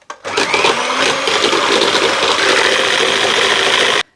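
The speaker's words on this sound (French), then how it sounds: "On va maintenant fouetter notre crème fleurette." An electric whisk whips whole liquid cream with icing sugar, giving a steady, loud motorised whir that runs unbroken for about four seconds.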